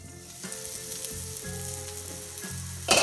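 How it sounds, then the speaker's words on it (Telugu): Eggs fry in a covered pan for a dry fried egg onion curry, giving a steady close sizzle throughout with a few soft bumps of the pan and lid, and a brief louder hiss near the end. "ఇలా రెండు ఎగ్స్ బ్యాక్ సైడ్ తిప్పుకుని ఇంకో 5 మినిట్స్ ఫ్రై చేసుకోవాలి"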